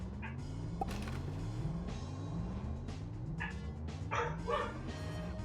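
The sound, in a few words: dogs barking in the other room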